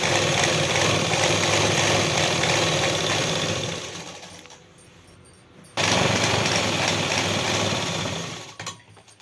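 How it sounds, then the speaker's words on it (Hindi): Electric sewing machine stitching the side seam of a pair of trousers, running in a loud continuous whir for about four seconds, pausing briefly, then whirring again steadily before stopping. "तो इस तरीके से ये हम दूसरी साइड से सिलाई दे रहे हैं"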